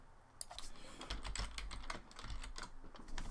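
Quiet, close-up typing on a computer keyboard, a quick irregular patter of key clicks running for a few seconds.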